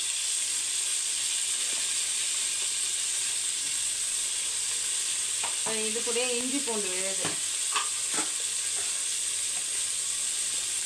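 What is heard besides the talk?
onions and tomatoes frying in a pan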